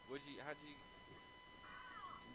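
A cat in the Minecraft video game gives a couple of quiet, high meows from the game audio, with a person talking nearby.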